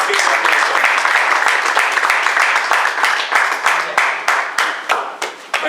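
Audience in a meeting room at a Toastmasters judging workshop claps a round of applause, a close burst of many hands that thins toward the end into separate, sparser claps.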